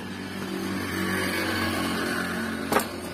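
A Yamaha RX-King motorcycle that runs poorly and struggles on climbs sits at a steady, low idle throughout, then gives a brief sharp burst near the end.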